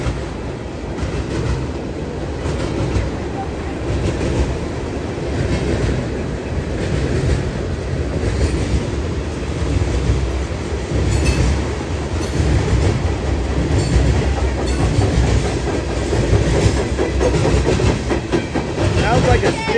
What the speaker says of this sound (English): Sounds like a steam engine.